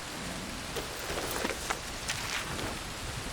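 Steady rainfall in Red Dead Redemption 2, a dense, continuous hiss of drops on surfaces with a few brighter patters and drips standing out, even and unbroken, with no voices.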